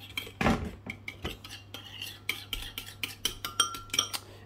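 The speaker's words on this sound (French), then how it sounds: "Je viens mélanger comme ceci rapidement." A spoon mixes an Italian-style eggplant dish in a bowl or pan with quick, rhythmic scrapes and clinks of metal, close and fairly sharp, repeating steadily.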